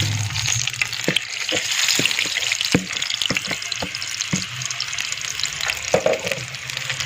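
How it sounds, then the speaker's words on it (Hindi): Marinated chicken fries in hot oil on a tawa with a loud, continuous sizzle. Frequent sharp spatters and crackles are heard up close, with occasional utensil taps as the pieces are moved. "ऑयल हमारा गरम हो गया। अब इसमें हम जो मैरिनेट किया हुआ चिकन था वो डाल देते हैं।"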